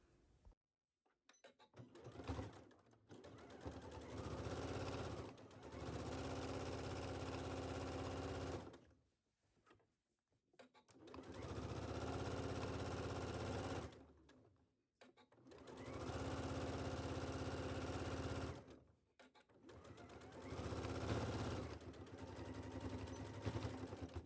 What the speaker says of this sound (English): we're going to sew this at 5/8 inch seam allowance.